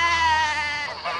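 A sheep gives a single loud, sustained wavering bleat, close by and alone, lasting about a second on a farm.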